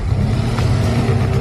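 A car engine revs loudly and close, with a deep throbbing drone and a slight rise in pitch partway through.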